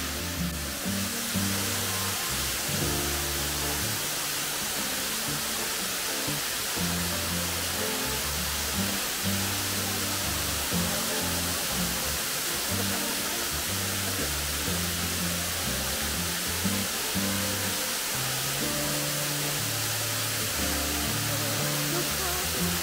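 Proklamator waterfall at Lembah Anai in West Sumatra, a steady broadband roar of falling water heard at moderate level, with a faint musical backing underneath and no break throughout.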